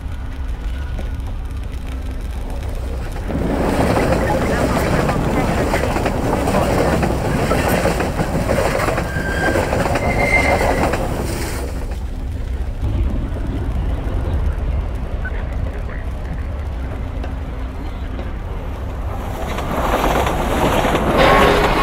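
A train passing in the video game Half-Life 2, a loud, close, continuous rumbling roar with rattling and clattering that swells and shifts over a long stretch, with no voices.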